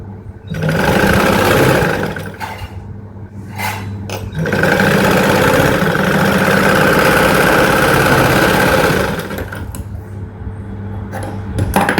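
An electric sewing machine stitches a cloth blouse belt in long steady runs, loud and close, pausing briefly between bursts of stitching with a low motor hum underneath.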